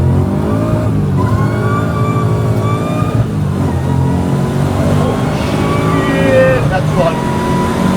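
A supercharged 850 hp 1963 Chevrolet Nova engine revs hard and loud, a continuous throaty roar with rising and falling pitch as the tires break loose, close up and unbroken.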